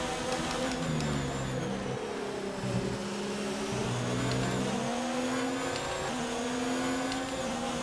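In the F1 2019 video game, a Formula 1 car's engine whines loudly and continuously as it accelerates out of a hairpin at the Austrian GP. Rising and shifting engine tones fill the track, with no talk.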